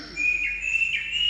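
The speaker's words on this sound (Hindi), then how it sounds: "चिड़िया बोलने लगी" Small birds chirp and tweet steadily in a village setting during gentle rain, a continuous bright twittering with no voices.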